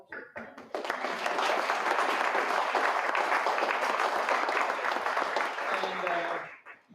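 Audience at a community forum in Fort Jones, California gives a sustained round of applause, dense clapping swelling quickly, holding steady for several seconds, then tapering off.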